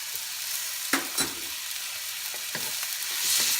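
Garlic sautéing in a pan, with a soft steady sizzle and a few sharp spoon scrapes as it is stirred, close by and with no talking.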